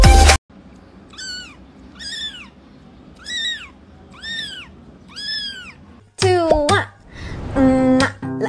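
A cat meows five times in an even rhythm, close and clear, followed by a louder, drawn-out yowl at the end.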